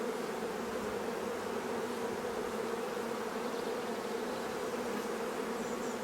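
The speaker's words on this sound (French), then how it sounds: "c'est un essaim qui est sur 3-4 seulement." A small honeybee swarm on three or four frames of a hive, giving a dense, continuous, even buzzing drone close by with no speech.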